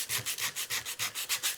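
Rough 80 to 100 grit sandpaper rubs back and forth on a wooden guitar neck in a steady rhythm of about eight close, raspy strokes, with no voices.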